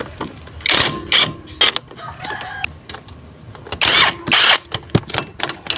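An impact wrench loosens the 10mm bolts holding the muffler on a Suzuki Burgman Street scooter, firing in several loud, close rattling bursts separated by short pauses.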